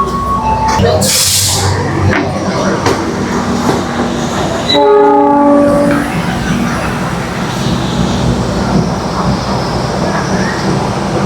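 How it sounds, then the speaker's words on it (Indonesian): Pangrango passenger train pulling into Sukabumi terminus station, loud nearby rumble of wagons with clattering wheels, a couple of short horn blasts near the start and a longer horn sounding mid-way, with people talking over the noise. "kereta api Pangrango tiba di stasiun akhir stasiun Sukabumi"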